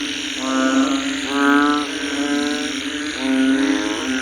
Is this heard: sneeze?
no